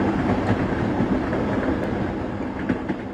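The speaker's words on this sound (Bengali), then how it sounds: "আমরা এরপর বর্ধমান যাওয়ার ট্রেনে চেপে পড়লাম ব্যান্ডেল থেকে" Riding a train from Bandel toward Bardhaman, a constant rumbling clatter of wheels on rails fills the carriage, steady and fairly loud with faint rhythmic clicks.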